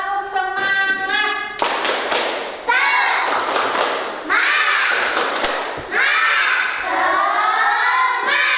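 A classroom of fourth-grade children performs the tepuk semangat clapping routine, loud bursts of rhythmic claps and thumps in patterned groups, mixed with children's voices chanting and shouting together.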